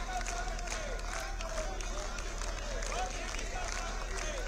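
MPs in parliament applaud Prime Minister Modi after a sweeping election win, a dense, steady wash of clapping mixed with crowd voices and chanting that runs throughout.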